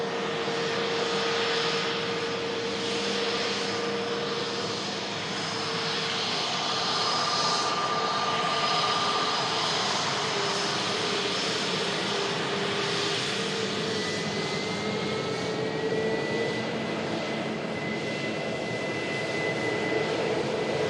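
Airliner jet engines spooling up at an airport with runways 23 right and 23 left in use, a steady continuous roar with shifting whining tones throughout, loud and unbroken, with no talk.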